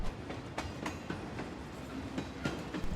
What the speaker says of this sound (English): The wheels clack loudly in my ears